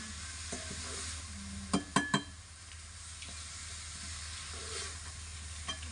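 Onions sizzle in a pan for stuffed capsicum, a steady frying hiss under a few sharp spoon scrapes and knocks against the pan, with no talking.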